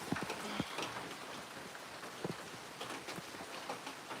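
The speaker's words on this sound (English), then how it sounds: "This is light rain." Light rain falls on an off-grid homestead in Hawaii, a steady soft patter with scattered louder drips and drops close by, and no voices.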